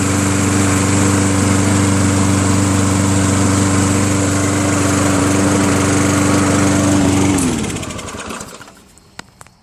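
A Lawnboy 20-inch mower with a Kohler 149cc engine runs steadily and loudly, its buzzing drone holding even before the engine cuts out and winds down near the end, leaving a quieter tail.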